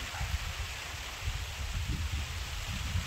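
Soft, steady rainfall with gusts of wind rustling through, low rumbling bursts rising and falling; no one speaks.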